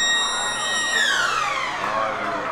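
A rugby match-end siren at a club rugby final wails steadily with high harmonic tones, then its pitch sweeps downward as it winds down, loud over faint background noise.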